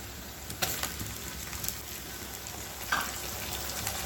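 Onions sauté in an iron kadai for an egg masala curry, giving a steady soft sizzle with a few light clinks of stirring, close and unaccompanied by talk.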